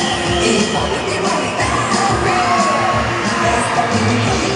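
Children at an outdoor family concert in Otero de Herreros, Segovia, shout together in a loud continuous chorus of yells and whoops that fills the whole stretch with no pause.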